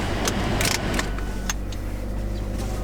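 A 2020 Toyota Yaris with fresh motor oil starts and settles into a smooth, low idle hum, with keys jangling and light clicks over the first second.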